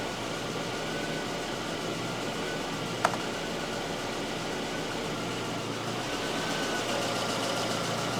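A Volvo 244 engine idles steadily during a tune-up, a constant mechanical drone with fan-like hiss throughout and one brief click partway through, with no talking.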